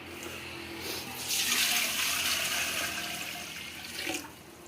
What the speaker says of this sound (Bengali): হাঁড়ি দিচ্ছি জল